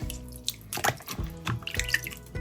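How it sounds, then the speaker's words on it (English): Water splashes and drips in irregular bursts as homemade butter is squeezed by hand in a bowl of cold water, close up, with no talking. "now we're going to put it into our cold water and just basically just squeeze it again"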